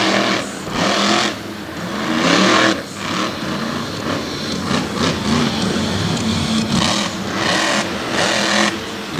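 Engine of the Buckshot Chevrolet-bodied monster truck from Culpeper, Virginia roars and revs in repeated surges, loud and rough, rising and falling over several seconds at an outdoor monster truck event at Lake Erie Speedway.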